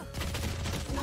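Cover fire in Valorant: a dense, continuous stream of gunshots with no breaks for just over a second, close and loud.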